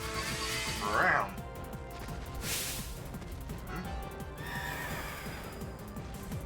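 In the Pokémon Crown Tundra video game, a horse gives one shrill, shaky whinny near the start, then fades back under steady game music and ambient sound that keep going to the end.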